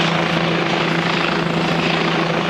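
Steady, loud helicopter rotor and engine drone near Iceland's erupting volcano, constant and unbroken as it hovers nearby.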